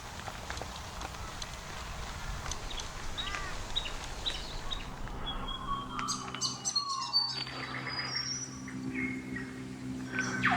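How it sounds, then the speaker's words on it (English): Birdsong from a whipbird and other birds rises over insect and cricket buzz in Queensland bush near Esk, with sharp whistles and cracking calls standing out amid wind and movement noise while cycling. "That was a whip bird."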